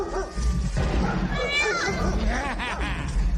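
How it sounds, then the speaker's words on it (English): Cat meows played on a keyboard, pitched like musical notes in G sharp, ring out one after another in a quick rising-and-falling run, loud and close over a busy background at a Disneyland concert. "I got cats in G sharp"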